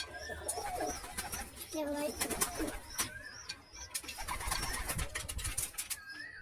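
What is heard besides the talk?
Rampuri pigeons cooing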